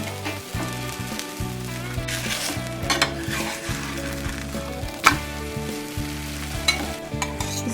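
Corn flour makki ki roti cooking on a hot tava griddle, an even sizzle with occasional scraping and tapping as it is handled, close and continuous.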